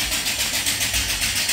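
A small steam engine fed by a boiler runs smoothly, giving a loud, steady rhythmic chuffing pulse at a quick even pace, close up and alone without talk.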